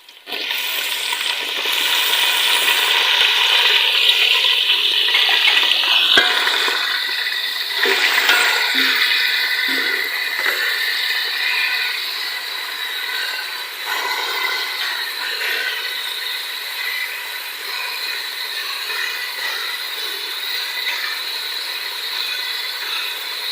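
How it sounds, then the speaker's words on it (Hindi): Carrots sizzle and fry in a pan for chicken macaroni, a loud steady hiss that stays even throughout with occasional small crackles and clinks. "अब इसी में हम डाल देते हैं गाजर, ताकि थोड़ा सा जो है गाजर भी फ्राई हो जाए।"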